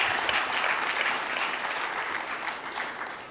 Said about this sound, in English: Please join me in giving KUCCPS a resounding round of applause for this milestone.